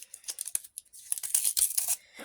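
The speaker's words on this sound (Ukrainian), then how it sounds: "Давайте наступний відкриємо ось цей пакетик." Paper surprise packet torn open by hand, a quick run of sharp ripping and crinkling bursts that build into a louder, busier tear near the end, close up, with no talking.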